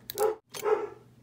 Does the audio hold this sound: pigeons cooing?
no